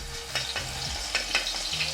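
Garlic paste sizzles steadily in hot oil with cumin seeds, a constant frying hiss with occasional stirring scrapes and no talking.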